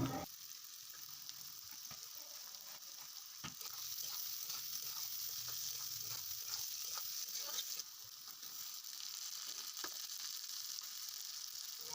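Onions sizzle in hot oil in a pan while being browned for a chicken and potato curry, a steady, fairly quiet frying hiss broken by occasional soft stirring clicks, with no talking.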